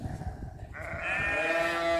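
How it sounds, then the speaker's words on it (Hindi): Sheep of an unusual breed at a livestock farm bleat loudly and close by, one drawn-out wavering call rising over the low murmur of the flock. "ये भी भेड़े हैं"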